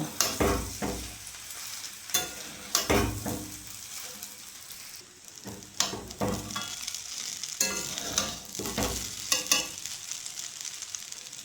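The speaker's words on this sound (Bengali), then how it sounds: "এখন ভালো করে পাস্তাটা সবজির সাথে নাড়িয়ে নেব" Pasta being stirred together with fried vegetables and eggs in a pan, a steady sizzle punctuated by repeated scraping strokes of a utensil against the pan at a loose, regular rhythm, close and alone.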